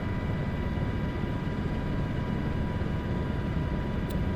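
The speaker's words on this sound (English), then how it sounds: "Like we have a plane flying overhead." A plane flies overhead in Microsoft Flight Simulator 2024 as a steady, broadband engine drone that holds at an even loudness throughout, with no voices.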